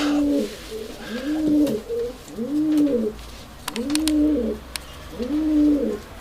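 Urfa Arab pigeons coo close by in a loft, giving five or six rhythmic rolling coos in repeated phrases, with a few faint clicks and rustles between them.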